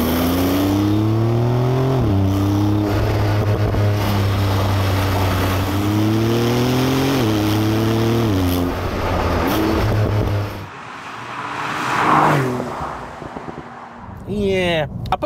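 A Porsche 911 (992) Turbo S in Sport Plus mode accelerates hard through several gear shifts, pitch climbing and dropping repeatedly, then backs off as a voice speaks briefly.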